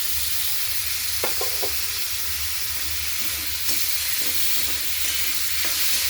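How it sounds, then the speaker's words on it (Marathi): Chopped tomato sizzles and fries in a pan with onion, garlic and masala, a steady hissing crackle with occasional stirring scrapes and clinks, close and alone. "आता आपण याच्यामध्ये कट केलेला टोमॅटो टाकून देऊ।"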